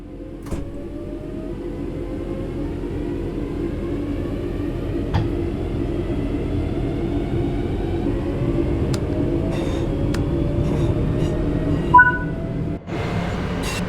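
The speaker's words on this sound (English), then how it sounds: "The train will then coast on level ground and only slow down very gradually." A train coasts on level rails in the Train Sim World 5 video game, with a steady low rolling rumble, faint rising whines and occasional clicks and thumps, and no talking.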